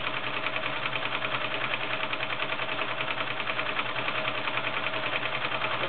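A White 742 convertible sewing machine stitches steadily, with a loud, fast, even mechanical whir and rapid needle clatter running throughout without pause.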